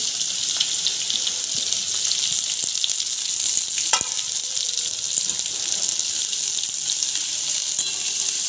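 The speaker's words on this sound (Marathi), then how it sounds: "आणि तेलावर छान परतून घ्यायची" Stuffed okra (bhindi) frying in hot oil, giving a steady, bright sizzle with faint clinks and a single sharper knock midway, no voices.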